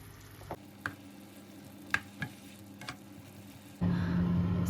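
Plov ingredients frying in a pan with salt and thyme, starting as a quiet low sizzle with a few sharp clicks and spoon taps, then a much louder burst of sizzling near the end, no talking.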